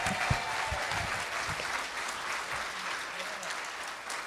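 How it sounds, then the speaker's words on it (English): Applause from the crowd at a roast at Threadfest 3 in Dallas. The clapping is steady but fairly quiet and sounds somewhat distant, with a few louder individual claps near the start. "Give her a round of applause."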